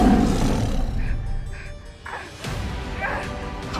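A tiger roars as a magical tiger spirit in a Thai drama, a loud, close, rough growling roar that swells and fades over a few seconds amid dramatic background sound.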